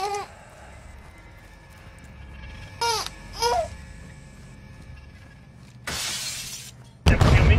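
Glass shatters in the Warzone 2 video game, with a sharp bright crash near the end following quieter in-game chirps and ambient hum; no talk over it.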